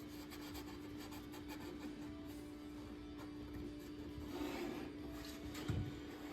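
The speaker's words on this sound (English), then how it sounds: "Run my fingernails as well as I can along this edge to make that hold as well as I can." Fingernails rubbing firmly along the edge of vinyl covering on a vintage Pioneer SX-650 receiver during restoration, a soft, close scraping that builds slightly toward the end over a steady low electrical hum.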